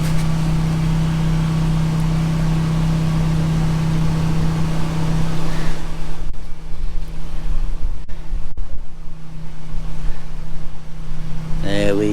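Water flushes through a freshly unblocked drain, a continuous rushing, gurgling wash over a low hum that shifts partway through and carries on steadily, loud and close.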